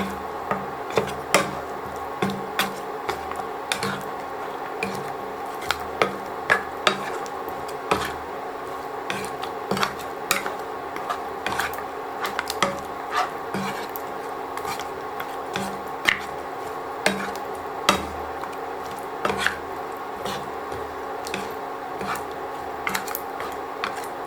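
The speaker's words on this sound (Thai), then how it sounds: "ใส่ซี่โครงหมูที่เราต้มเปื่อยแล้วลงไปนะคะ ผัดให้เข้ากันนะคะ" Boiled, tender pork ribs stir-fried in a pan with red curry paste, heard as a steady close sizzle under soft, irregular squishing and scraping of the spatula through the thick mixture.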